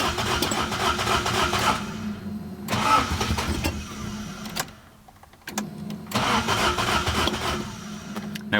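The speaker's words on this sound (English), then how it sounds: "No wonder the starter motor's dying out. Doesn't want to start, does it?" A 1975 Toyota Corolla KE35 with a failing starter motor cranks in three long, labored bursts, separated by brief pauses, with a rhythmic churning whir. Each attempt fails to catch, and the sound is close and fairly loud.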